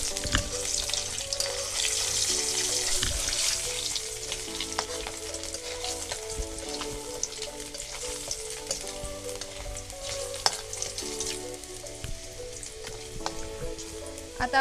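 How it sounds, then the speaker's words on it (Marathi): Garlic sizzles steadily in hot oil in a pan over a wood-fired stove, a close, continuous crackle and hiss with occasional faint clinks of utensils. "हा लसूण देखील आपल्याला आता तेलावरती छान असं परतून घ्यायचं आहे."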